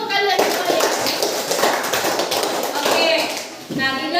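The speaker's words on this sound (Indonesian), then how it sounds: "Tepuk tangan dulu untuk kalian semua ya." Students in a classroom clap together in a brisk burst of applause, with voices heard briefly at the start and end.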